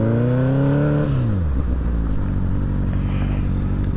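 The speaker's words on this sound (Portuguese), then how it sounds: "Escapamento tá legal." Motorcycle engine and exhaust heard while riding, revs falling then settling into a steady, loud, close drone with no talk.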